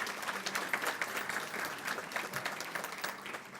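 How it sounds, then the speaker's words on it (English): Applause breaks out for the gas company during a State of the City address, a fairly faint, steady patter of clapping from a seated audience, heard on its own. "So a round of applause for the gas company."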